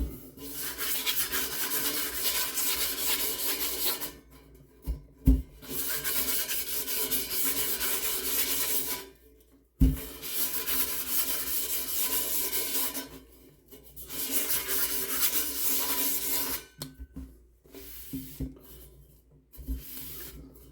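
Sandpaper rubbing a metal cymbal in long, close, raspy strokes, repeated in several bursts separated by brief pauses and a few sharp knocks.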